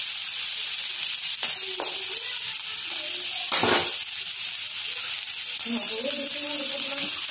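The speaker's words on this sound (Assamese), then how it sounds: "তেলত এতিয়া মই পিঁয়াজখিনি ধুনীয়াকৈ ভাজি লৈছোঁ" Onions crackle and hiss in frying oil for a traditional Tai Ahom dish, a continuous near sizzle with one sharper stir or scrape in the middle and faint background tones near the end, with no talking.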